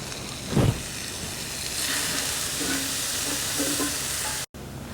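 Sausage sautéing in a pan with garlic and peppers, giving a continuous loud, close sizzle with light stirring scrapes and one brief knock near the start.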